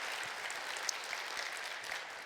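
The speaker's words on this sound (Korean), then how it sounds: "다시 한번 박수로 저희가 감사하기 원합니다" A church congregation gives the choir a steady round of applause during a Sunday service. The clapping is moderately soft and even, with no voices.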